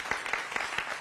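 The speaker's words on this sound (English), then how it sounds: "A round of applause." Applause from an audience at a public announcement by the Maryland attorney general, heard as steady, moderately loud clapping that runs continuously through the short moment.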